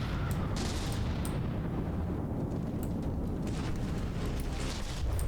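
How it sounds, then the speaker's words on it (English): Mortar fire in the naval battle game From the Depths, heard as a dense, continuous roar of booms and blasts with scattered sharp cracks, loud and sustained throughout with no talking. "Oh, that was a mortar, wasn't it?"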